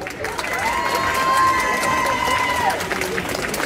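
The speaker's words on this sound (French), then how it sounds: "Je vais vous demander d'accueillir et d'applaudir bien fort, bien chaleureusement, Misaki Kaori" Audience at a cosplay contest claps and cheers in a dense, lively wave. Shouts and voices rise over the applause, and a sustained tone runs through the middle.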